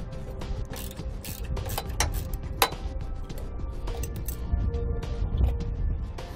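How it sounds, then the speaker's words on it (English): A 7/32 socket wrench backs out the bolts holding a 7-way trailer connector, giving quick ratcheting ticks and small metallic clinks over a low background hum, close up and without speech. "Now we'll remove the 4 bolts holding the connector in place."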